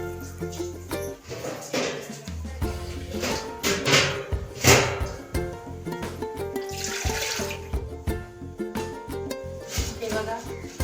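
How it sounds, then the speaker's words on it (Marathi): Water is poured into a thick dough mixture to thin it, a continuous trickling, splashing pour that runs steadily for several seconds under a faint musical background. "मी थोडं पाणी टाकून ते"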